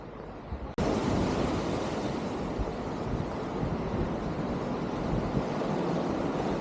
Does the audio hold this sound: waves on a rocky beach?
yes